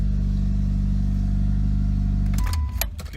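A Mitsubishi Lancer Evolution VIII with a failed clutch idles steadily with a deep, even engine hum close by, then shuts off near the end with a few clunks and rattles.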